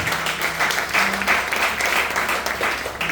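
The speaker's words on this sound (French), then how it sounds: "On acclame Jésus de Nazareth." Congregation applauding in a church service, a steady dense wash of clapping that holds for about three seconds with faint voices and a low sustained tone underneath.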